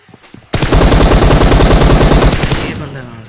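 Video game machine gun fire bursts out as a loud, rapid string of close shots lasting about two seconds, then trails off into echoing decay.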